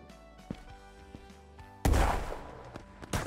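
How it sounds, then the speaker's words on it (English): An enemy player fires at close range in a shooter video game, with several sharp gunshot cracks, one loud heavy blast near the middle and another burst at the end over faint game music. "Now he's shooting at me"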